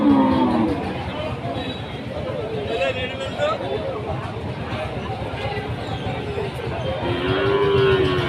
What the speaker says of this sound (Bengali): এটা হচ্ছে ফ্রিজিয়ানের ক্রসের ষাঁড় গরু।